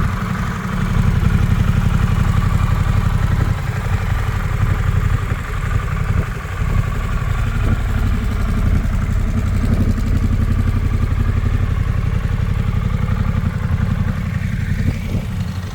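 A Benelli TRK 502 motorcycle engine idles steadily and close by, a loud continuous low rumble with light mechanical clatter, heard alone without talk.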